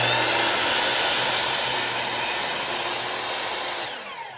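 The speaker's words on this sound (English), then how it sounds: "now mommy's gonna go cut these with the saw into an angle cut, 22 degrees" A miter saw cuts boards at a 22.5-degree angle, a loud, close whining roar that holds steady and then tapers as the blade spins down, with no talking.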